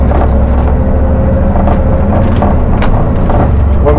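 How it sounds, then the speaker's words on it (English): Trucks drive over sand dunes, a loud, close engine rumble that holds steady throughout with faint rattles and bumps over the top. "we're just cruising along here, and the trucks are just eating this for breakfast"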